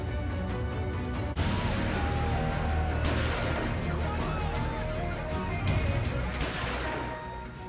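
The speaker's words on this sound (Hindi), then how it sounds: "पिस्टल से गोलियां दागनी शुरू की" Pistol shots fired at a wedding celebration in Sultanpur, India, ring out as a few sharp bangs over loud, continuous party music and crowd noise.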